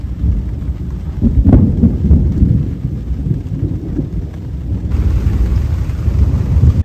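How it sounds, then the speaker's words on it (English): Night thunderstorm with heavy rain at a remote national park lagoon in Argentina: a loud thunder rumble rolls out early, then steady dense rainfall hisses on, close and continuous, with no voices. "It was thunder and lightning."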